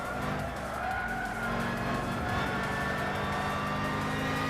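Several race cars battling closely in the racing game Gran Turismo 6 at the Ascari circuit, engines droning loudly and continuously with tire noise, no talk.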